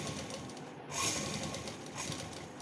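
A sewing machine stitching fabric right against piping on a night suit, a continuous soft mechanical whirr with a brief pause and then renewed bursts of stitching, fairly quiet and close.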